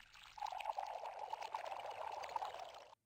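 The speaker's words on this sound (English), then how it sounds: "you cleverly pour bottle after bottle of Sam Andreas's St. Louis brew into the dusty road" Beer from bottle after bottle of St. Louis brew pours onto a dusty road in the Freddy Pharkas Frontier Pharmacist game, a soft, steady splashing stream for about three seconds that cuts off abruptly.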